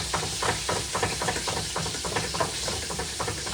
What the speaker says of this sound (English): While my fried green tomatoes are frying